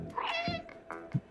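A cat meows in the video game Stray, one clear, close meow followed by a short second call, with no talk.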